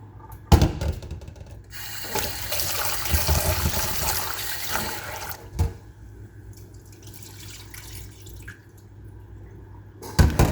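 Water runs and drips in a kitchen sink as chopped food is rinsed, with a louder splashing stretch early on, occasional clunks, then a softer trickle, fairly close.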